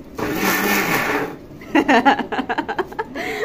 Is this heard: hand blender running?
yes